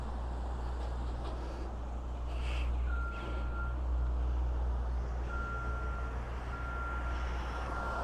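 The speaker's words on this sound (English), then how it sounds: "It's hard with cars going past" Trucks and cars passing on a street in Innisfail: low, steady traffic rumble with engine drone at moderate distance, faint high beeping tones appearing intermittently, no talk.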